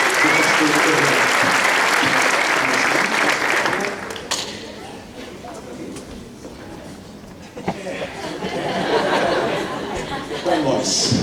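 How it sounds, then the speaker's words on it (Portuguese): A church congregation at a revival crusade claps loudly for about four seconds; the applause then thins into scattered clapping under crowd chatter and murmuring, and swells back toward the end. "Vamos aplaudir a Deus pela vida do pastor Hernandes."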